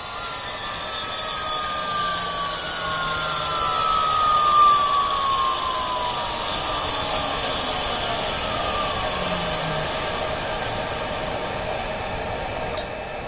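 A newly installed CNC spindle motor on an inverter spins down after its power is cut from about 12,000 RPM, its loud high whine gradually falling in pitch and fading over several seconds, ending with a sharp click.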